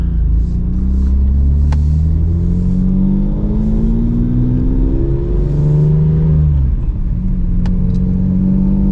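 A BMW E36 M3 sedan with an S54 engine and six-speed gearbox pulls through gears while cruising around a neighborhood, its engine note climbing and dropping between shifts, loud and steady from inside the car.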